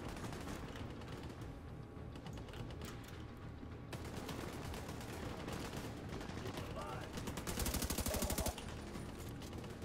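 Gunfire in the video game The Division 2, with dense bursts of automatic rifle fire and shots, loud and continuous over a busy combat mix.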